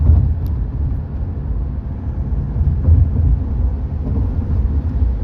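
Inside a car cruising on the Delhi–Mumbai expressway during a Pune to Delhi road trip, a loud, steady low rumble of road and engine noise runs without a break, with no voices.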